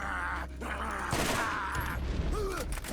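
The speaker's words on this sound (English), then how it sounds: "a couple of raiders trying to shoot you a lot. We're just getting bombarded." Gunfire from raiders in Borderlands 1 Remastered, a dense, steady barrage of rapid shots and impacts sustained throughout, with layered game effects underneath.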